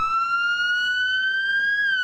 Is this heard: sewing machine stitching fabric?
no